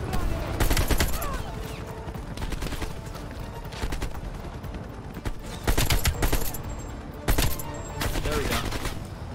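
Rapid gunfire bursts from Call of Duty: Black Ops Cold War, loud and dense with several heavier volleys standing out, set among sniping action in snowy Russian mountains.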